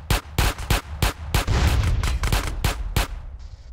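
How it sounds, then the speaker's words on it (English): Gunfire in the video game GTA San Andreas, a close, loud burst of a dozen or so sharp shots in an irregular rapid rhythm, followed by a short quiet tail. "Gunfire!"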